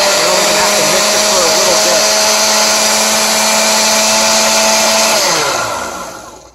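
Countertop blender whirring loudly and steadily as it purees blueberries, passion fruit and pineapple into a smoothie, a sustained motor drone that holds for about five seconds before winding down and fading out.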